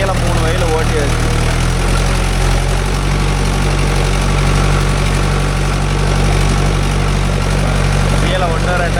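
A Mahindra Yuvo Tech Plus 585 DI 4WD tractor engine runs loud and close in a farm field, a steady, unbroken diesel drone with low throbbing vibration throughout.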